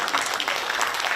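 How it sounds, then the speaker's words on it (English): A lecture audience gives a brief round of applause, a close, dense burst of many hands clapping at an even level for about a second. "So can you give her a round of applause?"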